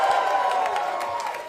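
A large political rally crowd roars with sustained cheering, shouting and scattered clapping, a dense wash of voices that stays loud and slowly eases off toward the end.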